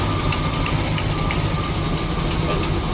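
A steady low Mopar barn-find car engine with a leaking valve cover idles continuously at close range, with a constant hum and no changes in pitch or level.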